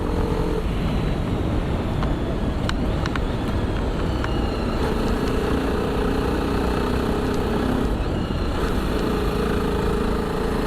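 A TVS Apache RR310 Limited Edition motorcycle engine drones steadily while the bike is ridden, with a loud continuous roar and wind rush and no pauses.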